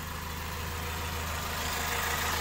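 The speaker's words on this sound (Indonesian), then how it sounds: "sekarang coba kita nyalakan aja ya untuk performa mesinnya normal teman-teman untuk mesinnya" A used car's engine idling after being started, a steady low rumble with an even hum, close and continuous with no talking.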